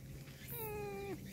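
A cat gives one drawn-out meow, rising slightly then sliding down at the end. It sounds close and clear over a faint low hum, with no talking.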